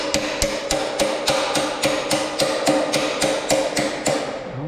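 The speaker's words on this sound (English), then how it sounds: "I'm just going to drill my own hole." A drill works on the metal casing of a Qmark 5kw heater, producing a rapid, regular series of sharp knocking impacts, about three per second, close and fairly loud, with no talking.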